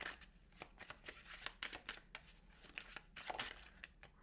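A deck of playing cards being shuffled at close range, a rapid run of crisp riffling bursts and flicks repeating in quick succession with no talking.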